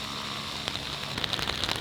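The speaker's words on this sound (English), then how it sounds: "it is pouring with rain and has been all morning." Heavy rain pours steadily at a Victorian-era cemetery in Chesterfield, England, a dense close hiss of drops spattering on surfaces with a few sharper taps near the end, and no voices.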